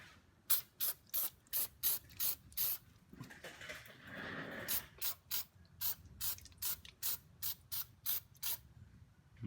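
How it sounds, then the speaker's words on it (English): Rapid, rhythmic bursts of carburetor cleaner aerosol spray, about a dozen short hisses in a row, with a brief pause and some mechanical rattling in between, while cleaning surfaces during a VW push rod tube install. "we'll go and spray a bit of that on to our surfaces in here"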